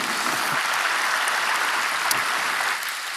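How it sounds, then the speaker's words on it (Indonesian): A church congregation applauds steadily throughout, a dense, loud wash of many hands clapping that tapers slightly near the end, with no talking over it. "Berikan tepuk tangan kita untuk Tuhan kita."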